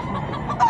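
A hen at a busy pet market gives a short, close cluck, lasting well under a second.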